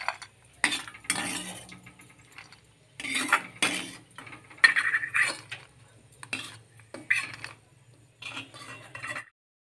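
Metal spoon scraping and clinking against a pan as sago kheer is scooped out onto a plate, several separate bursts of scraping and tapping with quiet pauses between, close and moderately soft.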